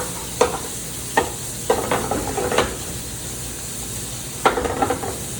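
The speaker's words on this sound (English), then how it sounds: "We're gonna toss our gnocchi in the pan. And we're gonna just toss that around." Gnocchi and peas tossed in a hot pan, a steady sizzle of frying under scattered scraping and clattering tosses, a few distinct knocks spaced through the clip and a busier cluster near the end.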